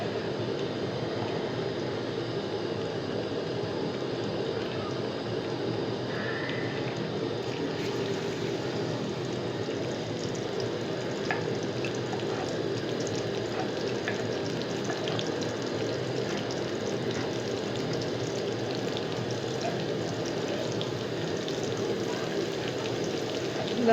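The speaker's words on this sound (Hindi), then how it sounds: "इसमें तेल गरम हो जाए उसके बाद इसमें लहसुन डालूंगी।" Garlic fries in hot oil in a pan for a restaurant-style moong dal, giving a steady, close, hissing sizzle that continues evenly without pause.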